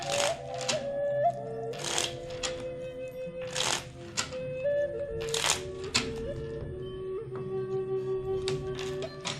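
Tarot cards riffle-shuffled repeatedly in quick bursts, close and crisp, with soft taps between shuffles and a faint tonal hum underneath.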